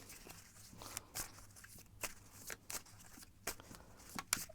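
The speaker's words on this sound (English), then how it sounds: "I'm gonna shuffle some more" Tarot cards being shuffled by hand for a card reading: quiet, irregular riffles and soft slaps of the deck arriving in short bursts, with no talk over them.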